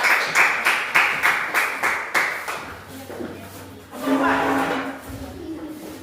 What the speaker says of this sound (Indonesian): tepuk tangan dulu buat kelompok 1, 2